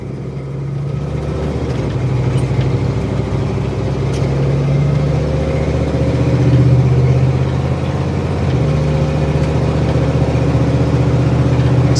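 A 1975 Ford Bronco's engine runs steadily through a test drive, a low droning rumble with a strong steady hum that swells slightly midway, continuous and close with no talk.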